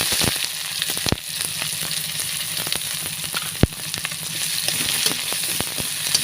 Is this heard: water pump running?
no